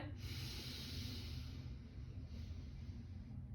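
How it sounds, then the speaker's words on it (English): A person takes a slow, steady in-breath during a guided breathing exercise in an arts class, with a soft, airy hiss sustained close to the microphone for several seconds at low volume. "So breathing in"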